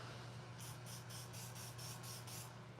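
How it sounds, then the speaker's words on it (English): Eight short bursts of WD-40 aerosol spray onto a rag hiss in a quick, steady rhythm, close by, over a low constant hum, outdoors on a damp night. "Just give that rag a nice little spray down."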